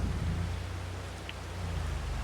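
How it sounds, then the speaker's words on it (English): Rain falls in Farming Simulator 22 as a steady, soft hiss of broadband noise over a low rumble, constant and fairly quiet throughout. "It's still raining"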